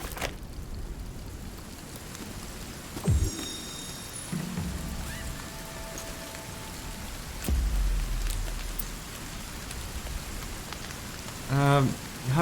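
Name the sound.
rain in the video game Sons Of The Forest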